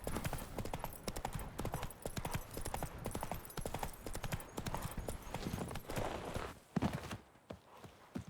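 Rapid hoofbeats of a horse galloping in The Witcher 3 video game, a steady close clip-clop rhythm running throughout, with faint voice and game ambience underneath.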